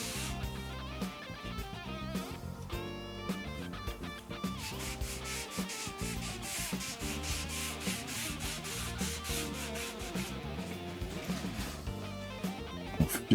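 A cloth rubs coat after coat of brown stain onto the body of a Gibson Explorer-style guitar, a close, continuous scrubbing with rhythmic back-and-forth strokes and no talking.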